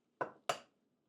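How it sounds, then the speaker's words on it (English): Two quick, crisp knocks of eggs being cracked, close and clean against near silence, each tap fading out fast. "I'm going to crack my eggs into a bowl."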